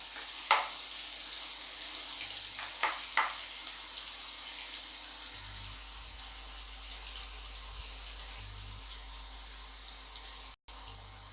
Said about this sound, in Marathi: थोडंसं परतून घेऊया. कांदा घालूया.